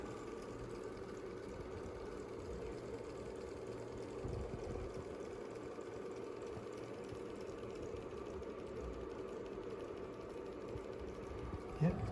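Taycol vintage toy boat electric motor turning slowly, a faint, steady buzzing whir with a slight rhythmic flutter, running alone throughout.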